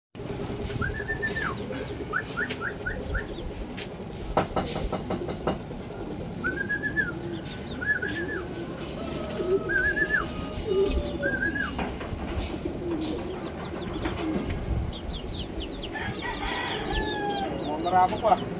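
Racing pigeons in a loft during a race in Pasacao, Camarines Sur, with soft repeated coos and chirpy calls over a steady, noisy outdoor background of wind and clatter.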